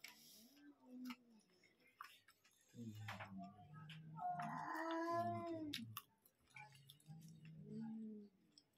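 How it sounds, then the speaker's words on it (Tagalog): Cats yowl and meow in drawn-out, wavering cries, several calls in a row, fairly close in an otherwise quiet space. "Yung mga pusa, ang ingay."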